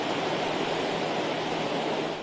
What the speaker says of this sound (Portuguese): Apesar que nós estamos vendo a água ali correndo